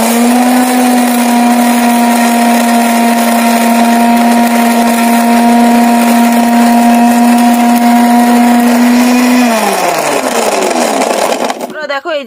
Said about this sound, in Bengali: মশলা ভেজে গুঁড়ো করে নিয়েছি ঠান্ডা করে।